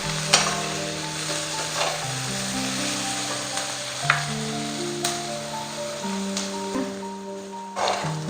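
Vegetables sauté in a pan for noodle spring rolls, a soft continuous sizzle with occasional sharp clicks of a utensil against the pan, while sustained music notes play underneath.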